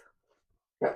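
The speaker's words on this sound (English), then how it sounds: "Hazel, that's my dog." A dog gives a single short bark close by, sharp and loud at the very end of an otherwise quiet indoor moment.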